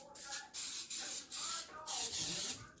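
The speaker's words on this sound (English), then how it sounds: "I'm going to spray it with coconut oil spray, just like so" Coconut oil cooking spray is spritzed into a brownie baking pan in several short hissing bursts, each lasting about half a second with brief gaps between them, close and fairly clear.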